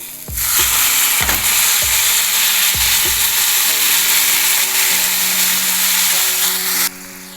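Cooked breadfruit (kadachakka) drops into hot masala in a pan, setting off a loud, steady sizzle with a few thumps and scrapes of stirring, running continuously until it cuts off near the end.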